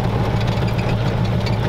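A car engine idling at low speed during a first test drive, a steady deep rumble with a faint even pulse, close and fairly loud with no talk.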